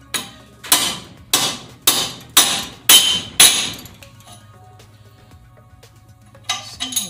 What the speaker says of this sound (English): that was a big hammer